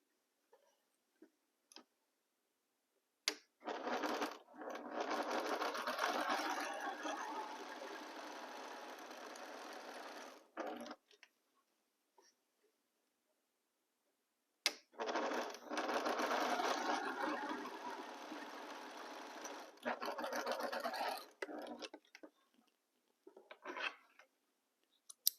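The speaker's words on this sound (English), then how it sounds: "I line up all my fabrics very well and start sewing" A sewing machine joins fabric pieces for a pieced box in two long, steady runs of close stitching, separated by near silence.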